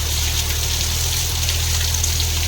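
Muddy water flows steadily during rain, a loud continuous rushing and trickling wash with no pauses.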